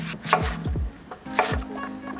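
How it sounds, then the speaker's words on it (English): Knife chopping vegetable seeds into roughly 1cm chunks on a cutting board, a few close, sharp thuds in quick bursts with short pauses between. "Now I'm just chopping up the seeds, just into 1cm chunks or so."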